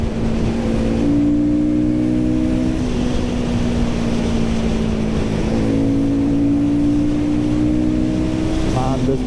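A Royal Enfield Guerrilla 450 motorcycle is ridden at full throttle, its engine drone loud and steady throughout, pitch holding high with slight shifts, heard close over wind and road noise.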